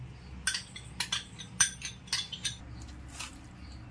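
A spoon clinks against a bowl in a string of sharp, irregular taps while mutton is mixed with mustard oil and yogurt, close and fairly quiet.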